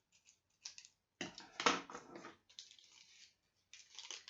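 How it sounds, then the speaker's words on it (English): Scissors cut paper in a semicircle for a kids' craft, giving several short crisp snipping and rustling bursts with quiet pauses between them. The snips are close up and fairly soft. "So I'm cutting in a semicircle."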